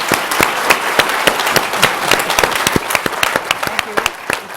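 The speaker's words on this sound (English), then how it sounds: "one more round of applause" Applause from a lecture audience after a talk, with distinct individual claps standing out sharply over a fuller, close wash of clapping that continues steadily throughout.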